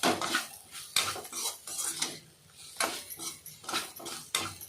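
Bitter gourd thokku being stirred in a pan with a metal spoon, giving repeated clinks and scrapes in an irregular rhythm of bursts, close and fairly loud, with no talk over it.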